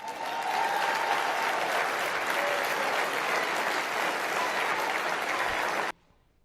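A large crowd at a packed outdoor political rally applauds and cheers loudly and steadily for about six seconds, then the sound cuts off abruptly.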